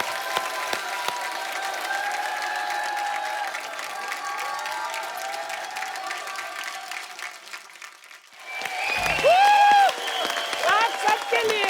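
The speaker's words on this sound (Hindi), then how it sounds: "जोरदार तालियां हो जाएं।" A studio audience at a TV comedy show claps in a dense, steady roar of applause that dips briefly before swelling louder again, with a high whistle-like tone cutting through near the end.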